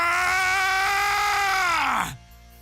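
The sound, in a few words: anime character Goku screaming while powering up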